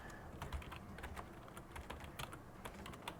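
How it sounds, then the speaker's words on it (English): Rapid clicking keystrokes on an old computer keyboard, a steady run of light, close taps with small pauses and no talking. "This old keyboard isn't working great."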